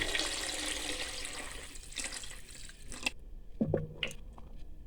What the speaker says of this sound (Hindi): इस वक्त पर हम इसमें पानी शामिल कर देंगे, तकरीबन 2 लीटर